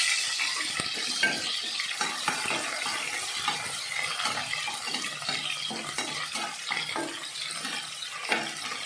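Onions frying in olive oil over a gas flame, a steady broadband sizzle with scattered stirring scrapes and clinks running throughout, close and fairly loud with no talk.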